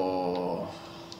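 Dogmeat, the dog companion in Fallout 4, lets out a brief tonal whimper close by, a short whining cry that fades quickly with no talk over it.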